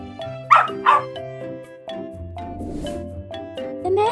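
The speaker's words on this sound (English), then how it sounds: "Dog." Two quick cartoon dog barks ring out close and loud over cheerful children's cartoon music, followed by a softer whimpering yelp as the music carries on.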